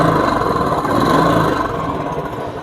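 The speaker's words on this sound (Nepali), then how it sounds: "तपाईको साइलेन्सर पनि सोरुमकै साइलेन्सर हो। तपाई आवाज सुन्न सक्नुहुन्छ।" A Royal Enfield motorcycle engine runs through its stock showroom silencer, a loud, steady, close-up exhaust thrum at idle that eases slightly toward the end.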